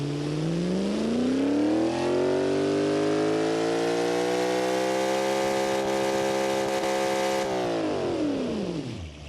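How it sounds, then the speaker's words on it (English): A supercharged drag car engine in the BeamNG racing game revs steadily up to a high, sustained whine and holds there, loud and close, before dropping sharply back down near the end. "we gotta find how high we can rev this thing"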